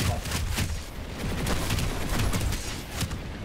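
Shotgun fire in the shooter Planetside 2, a rapid run of loud, sharp blasts layered with other gunfire and low booms across a few seconds of battle noise.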